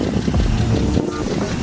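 An inline-six car engine idles and revs with a deep, rough rumble up close, with some wind buffeting and a faint voice underneath.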